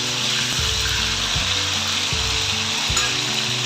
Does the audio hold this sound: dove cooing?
no